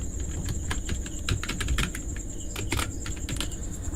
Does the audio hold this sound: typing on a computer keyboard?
yes